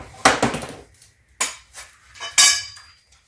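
Metal deep sockets and a breaker bar being handled, a few sharp clinks and clanks of steel tools knocking together at close range in three distinct bursts.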